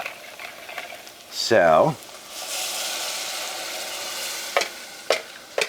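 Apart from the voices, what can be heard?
stirring broth into sausage cornbread stuffing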